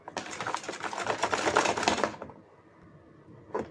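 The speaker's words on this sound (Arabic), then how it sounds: "هنقلبه كويس يا حبايبي." Carpet-washing mix of water, Fairy dish soap and Persil gel stirred in a bowl: a busy stretch of rapid clinking and scraping for about two seconds, then quiet, with one brief knock near the end.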